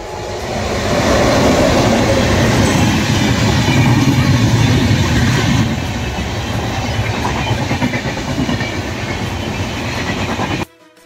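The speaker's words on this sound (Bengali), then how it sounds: "অল্প পর পরে ট্রেন আসে থেকে আরেকটা আসে আরে এত ট্রেন আসে নাকি" A train rolls past close by along a forest track, a loud, steady rumble of wagons with rhythmic clatter that holds for about ten seconds before cutting off abruptly.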